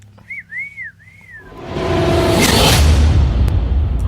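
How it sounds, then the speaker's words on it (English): Short rising and falling whistle tones, three quick swoops, followed by a swelling whoosh that builds into a loud sustained rush of noise, used as a sound effect. "Blow the whistle."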